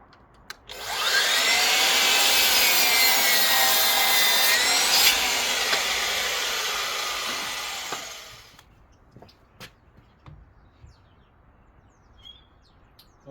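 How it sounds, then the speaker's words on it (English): A stack of MDF pieces is sawn to length in one long, continuous rasping cut that is loud and close and slowly fades over about eight seconds. Faint bird chirps and small taps follow in the quiet afterward. "So I've stacked all the pieces, I'm going to cut them to length."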